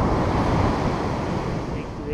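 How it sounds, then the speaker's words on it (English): Ocean waves break on a beach where surfers are out, a steady close wash of surf with wind buffeting the microphone throughout; no talk. "Nice wave breaking, nice wave breaking to the left."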